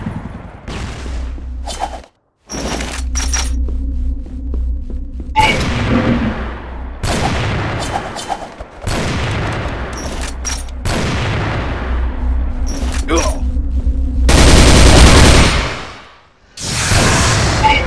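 Explosions and bursts of gunfire from the online shooter game Crossfire, with a flash grenade going off amid loud, dense booming shots and a brief silence before a final blast.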